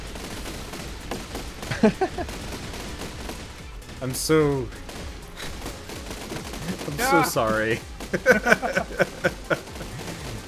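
Automatic cannons fire repeatedly in the physics building game Besiege during a multiplayer demolition derby, a series of sharp booming shots scattered through the clip beneath excited talking.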